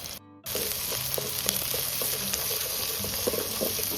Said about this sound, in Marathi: थोडंसं जिरं टाकून त्याला चांगलं परतून घेऊया लाल होईपर्यंत